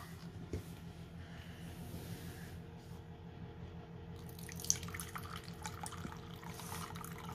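Tap water runs steadily into a container while preparing tea, a continuous close wash of splashing and trickling with a low rumble beneath and no talk.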